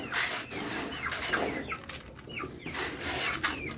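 Chickens cluck and call steadily while pecking at feed mixed with honey and spices, with several overlapping birds close by and no talk.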